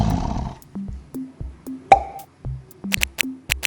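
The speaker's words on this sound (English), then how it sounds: "Lion," A lion's roar sound effect rumbles briefly and loudly at the start, then gives way to light plopping musical notes.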